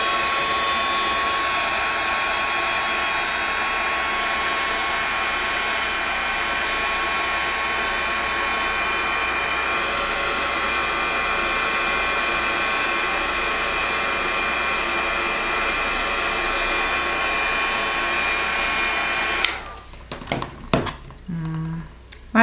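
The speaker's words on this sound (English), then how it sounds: "let's see if we hit it with the heat gun, if we can get it to bubble a little bit" A heat gun blows steadily on drying coin-sized craft tags, a loud continuous whooshing roar that runs unbroken for about twenty seconds before cutting off, followed by a few handling knocks and clicks.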